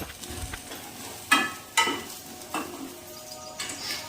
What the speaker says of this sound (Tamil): கொஞ்சமாக கறிவேப்பிலை நல்லா சேர்த்து வதக்கி விடுங்க.